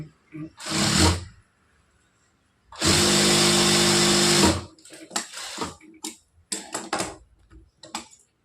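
Sewing machine stitching a border onto a blouse, heard as two close motor runs, a short one and a longer steady whir, followed by scattered clicks and handling sounds.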